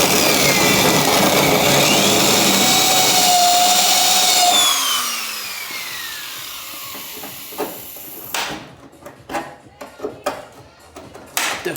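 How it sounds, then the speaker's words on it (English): A drill bores out spot welds on a Honda Integra car body, a loud steady whine that winds down after a few seconds, followed by sparse clicks and knocks of handling nearby. "Definitely drilled right through that one."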